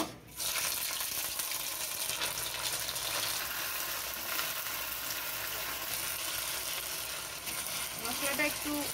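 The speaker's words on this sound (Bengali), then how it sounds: "মশলাটা একটু ফ্রাই করে নেব।" Spiced paste for Bengali aloo dum frying in a pan with cardamom and cinnamon, a steady close broadband sizzle running throughout with faint stirring clatter near the end.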